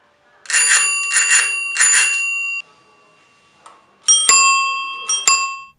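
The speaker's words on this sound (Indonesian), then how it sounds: "Juga contohnya bunyi bel sepeda." A bicycle bell rings clearly and close up: three quick bright dings in a row, a pause, then two more rings with metallic tones that fade slowly, in a quiet setting without voices.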